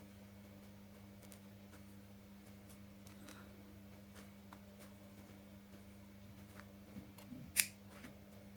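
Scissors snip through crochet yarn with a single sharp, close cut near the end, preceded by faint handling rustles over a steady low hum.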